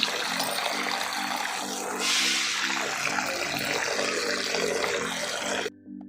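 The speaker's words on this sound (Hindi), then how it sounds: "बेसिन इन पत्तों को पहले ऐसे करके धो लेते हैं हम" Leaves being washed under running water in a kitchen basin, a steady, close rush of water with splashing throughout and a brief change near the end.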